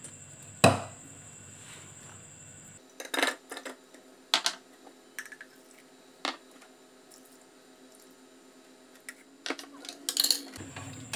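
A knife chopping coriander root on a board while preparing a chili, garlic, lime and fish sauce dipping sauce, heard as a few sharp, separated chops with quiet pauses between them and no talking.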